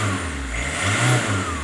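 Peugeot 406 LX 2.1 family estate engine revving up close and loud, a steady low throb swelling into a rev near the middle then easing back, with a faint high turbo whine running over the top and no voices.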